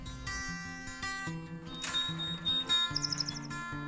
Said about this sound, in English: I love the song of the male canary.